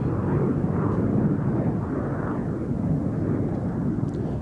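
Two aerobatic display jets, Red 6 and Red 7, roar away at low level at the Cosford 2019 air show, a loud, broad, steady jet rush filling the whole stretch with no talk.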